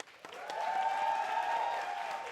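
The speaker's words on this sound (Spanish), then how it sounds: "Un aplauso a Ragá por su hospitalidad." Audience applause at a televised discussion event, a crowd clapping that swells quickly and holds steady, with a faint tone running beneath it.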